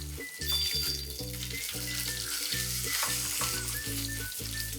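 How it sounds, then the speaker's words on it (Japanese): Thick-fleshed Spanish mackerel, skin side down in sesame oil, sizzles and crackles steadily in a pan, loud and close, with a constant frying hiss and no talk. "じゃあさわらを焼いていきます。"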